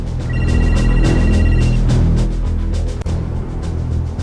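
A telephone rings with a steady electronic tone for a second or so, over a loud, busy background that continues after the ringing stops, in a Hindi-dubbed South Indian film.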